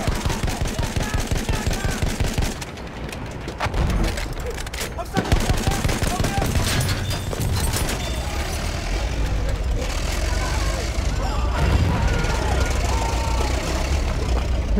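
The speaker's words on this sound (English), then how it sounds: "Machine gun, one of theirs." Enemy machine gun fire in a Battlefield 1 battle with an FT-17 light tank, loud rapid bursts mixed with scattered gunshots, engine rumble and battlefield noise throughout.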